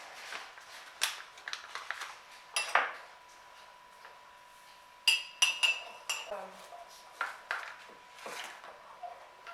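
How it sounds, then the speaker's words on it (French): A spoon clinks and scrapes against a mug while stirring Ancel instant mug cake mix into a thick paste, with irregular close taps and knocks, a few sharper clinks, and quiet pauses between. "Ajoutez le contenu du sachet tout en mélangeant à l'aide d'une cuillère jusqu'à l'obtention d'une pâte homogène"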